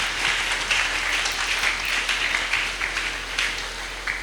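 A church congregation at a Sunday service applauding, a dense, steady wash of many hands clapping together at close range, sustained without a break.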